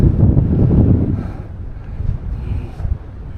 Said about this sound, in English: Another wind test.